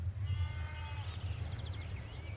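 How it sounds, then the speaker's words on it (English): Sheep bleat on green grazing pasture in an English rural landscape, several calls overlapping at mid distance over a steady low outdoor rumble, with no talking. "Green pasture and sheep grazing everywhere."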